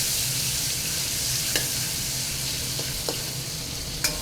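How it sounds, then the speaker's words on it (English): Pork sizzles steadily in a hot pan while stir frying for chow mein, a continuous close hiss of frying with a few faint clicks of the stirring utensil scattered across it. "You want to hear the sizzle."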